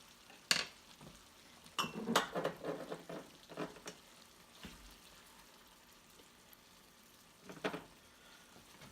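A spaghetti scoop ladles French onion soup into jars, with scattered clinks and knocks of metal against glass, soft sloshes and a few clustered taps, fairly quiet and close with gaps of near silence between.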